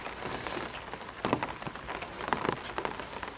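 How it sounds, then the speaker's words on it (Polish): Steady rain falling on a wet morning beside a beehive, a dense close patter of drops on surfaces with a few louder splats, continuous and without voices. "Jest piękny deszczowy poranek."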